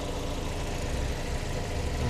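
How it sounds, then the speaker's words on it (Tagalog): A steady, low engine hum drones evenly without revving, a 2013 Toyota Veloz 1.3 idling quietly close by; no voices. "Then yung makina niya malinis at tahimik pa yung makina niya"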